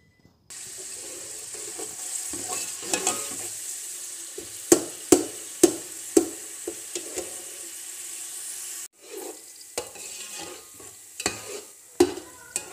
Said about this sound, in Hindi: प्याज डाल दिया है। अब ऑयल डालेंगे। ऑयल डाल के चूल्हा चला देना है।